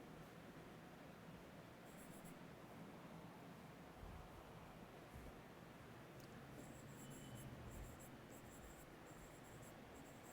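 Pen writing formulas on a notebook page in a calculus lesson, faint soft scratching strokes against a low hiss, quiet and steady with no talking.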